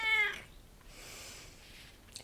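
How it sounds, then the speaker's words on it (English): A house cat gives one short, clear meow at the very start, close and fairly loud. Quiet room noise follows with no talking. "Cats."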